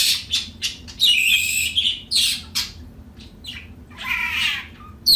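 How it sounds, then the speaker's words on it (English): A red-winged blackbird calls repeatedly up close, a series of harsh, raspy squawks and chattering bursts with short pauses between them. "Why are you making so much noise today, Lucky?"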